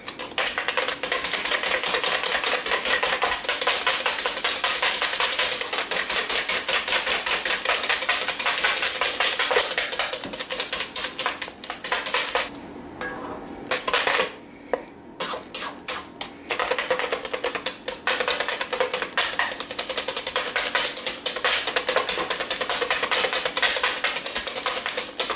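Rapid, continuous metal whisk beating cake batter in a bowl, a busy rattling clatter that runs nonstop, briefly thinning out in the middle before resuming at full pace.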